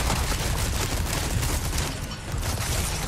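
Rifle fire in Resident Evil 4 Remake, Separate Ways, a dense loud burst of overlapping gunshots and booms rattling in a cramped area, close and relentless.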